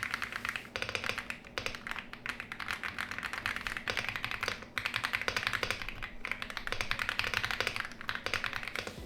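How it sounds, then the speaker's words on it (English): Rapid, continuous clacking of mechanical keyboard keys with Reaper switches being typed on, fairly quiet and close, with a brief pause midway. "The switches in this keyboard are Reaper switches, and just for you guys, here's a sound test."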